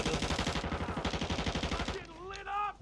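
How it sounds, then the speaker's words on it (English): Rapid automatic gunfire in a video game, a steady loud stream of shots for about two seconds, then it stops and a voice speaks briefly. "they're shooting at me"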